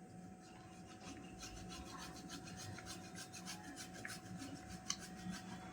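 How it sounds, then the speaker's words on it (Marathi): Cheese cubes are grated for a corn, capsicum and mayo sandwich, giving a faint, close, rhythmic rasping that repeats in quick strokes. "माझ्याकडे होते क्यूब्स म्हणून किसून घालायला."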